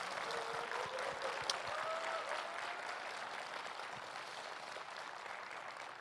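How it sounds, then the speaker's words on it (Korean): Audience applause at a Democratic Party campaign rally fills the space in a dense, continuous patter of many hands, soft and distant throughout. "이럴 때 박수 한번 쳐주시면 안 되겠습니까?"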